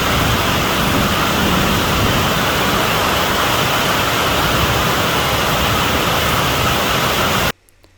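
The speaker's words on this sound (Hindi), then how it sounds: "इतनी तेज़ बारिश है मूसलाधार कि आप सोच भी नहीं पाएंगे" Torrential monsoon-style rain pours into an open courtyard in a steady, loud, dense hiss that continues unbroken for several seconds, then cuts off abruptly near the end.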